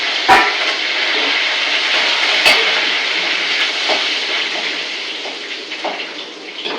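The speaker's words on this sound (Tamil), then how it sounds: "இந்த கருவேப்பிலையை அதில் போட்டு தாளிக்கணும்" Continuous crackling sizzle of curry leaves tempering in hot oil with mustard seeds and urad dal, loud and close, with a couple of sharp pops.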